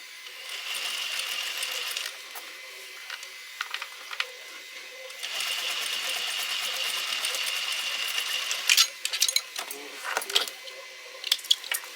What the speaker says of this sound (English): And then we're going to top stitch her closed.